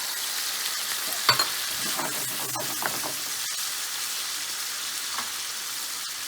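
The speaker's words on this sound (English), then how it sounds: "let's add a little bit of white wine, just a little bit, to create extra yumminess" White wine hits a hot pan of stuffed calamari and sets off a steady, hissing sizzle with a few faint clicks and pops, continuing evenly throughout.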